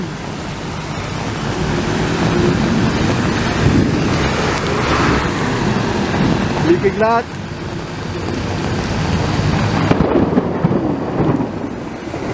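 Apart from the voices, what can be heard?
heavy rain with thunder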